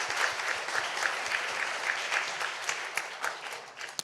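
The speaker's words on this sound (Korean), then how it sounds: "저를 위해서 많은 박수 부탁드립니다" Audience applause at a Bitcoin conference, a dense, steady clapping from a room full of people that holds for about four seconds and tapers slightly at the end.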